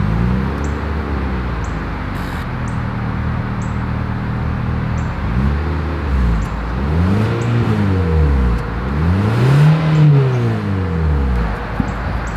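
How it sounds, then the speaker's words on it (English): A 2023 Mitsubishi Outlander three-row SUV sounds off at its exhaust, idling steadily and then blipping the throttle in several rising and falling revs, loud and close with no talk over it. "As always, here is that exhaust clip."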